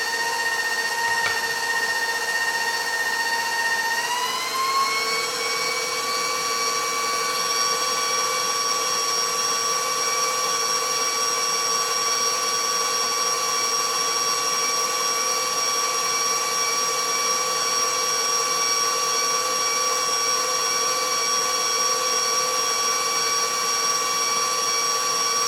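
An electric mixer whips Swiss buttercream icing, its steady whine rising in pitch as the speed goes up, then holding a loud, even high-speed drone throughout.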